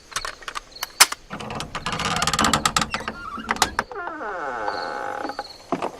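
Someone forcing a door lock at night in a crime video game: rapid metallic ratcheting clicks and scraping rattles close by, then a rising mechanical whir and sliding creak.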